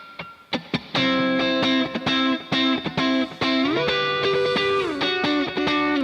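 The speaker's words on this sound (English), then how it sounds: "I'm going to throw on a quarter note delay that's got not super high mix or a lot of repeats." An electric guitar with a distorted, effects-laden tone plays chords and sustained notes through a quarter-note delay and a plate reverb of about two seconds, leaving the notes ringing in wash-like tails.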